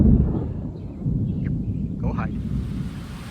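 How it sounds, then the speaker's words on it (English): A deep, continuous storm rumble roars steadily throughout, low and heavy like distant thunder mixed with gusting wind. "The storm is here and it sounds like a train in here"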